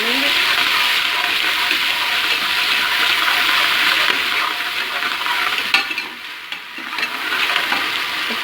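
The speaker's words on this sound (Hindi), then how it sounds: "इसको हल्का सा भून लेंगे।" Ginger, garlic and tomato frying with browned onions in a pan for daal: a loud, continuous close sizzle with stirring, briefly dipping and rustling near the end, no voices.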